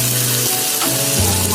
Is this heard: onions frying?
yes